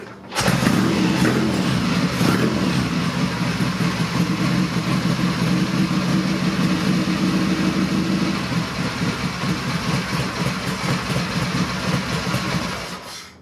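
A motorcycle engine starts up and settles into a steady, loud idle, a continuous low rumble that runs evenly before cutting off at the end.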